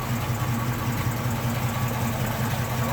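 A 1969 Ford Bronco half cab idles with a small exhaust leak, a steady close rumbling drone with a faint puffing texture and no talking.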